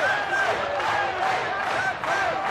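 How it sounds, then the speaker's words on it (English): Boxing arena crowd at a Daniel Santos versus Sergiy Dzinziruk fight roaring and cheering steadily, loud and dense, with shouted calls and whistles rising through the din. "the crowd are feeling this"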